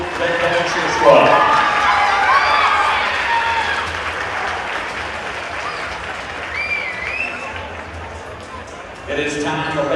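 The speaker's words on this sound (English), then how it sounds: "One more round of applause for their Evanston High School Red Devil Cheer Squad." A high school basketball crowd in the Evanston gym applauds and cheers for the Red Devil cheer squad, loud clapping that swells early and then slowly fades, with an announcer's voice and a whistle-like tone audible over it.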